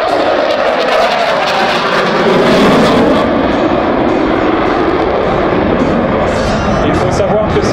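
A Dassault Rafale fighter jet flying a solo display at an air show roars loudly and continuously, a broad rushing engine noise that shifts as it passes, with a voice talking over it.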